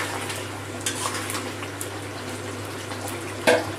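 About half a bowl of hot water is poured into a pot of chicken curry cooking in a home kitchen, giving a steady splashing, bubbling wash with a sharp clink near the end; no voices.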